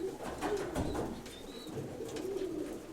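Pigeons cooing softly and continuously at close range, low murmuring calls repeating through the whole stretch, with faint chirps above.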